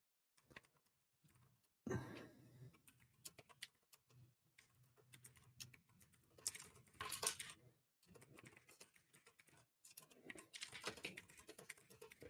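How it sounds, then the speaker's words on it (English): Fast, uneven clicking from a loud, clicky computer keyboard being typed on, coming in close bursts with short pauses between them and no talking. "that loud clickety-clack keyboard"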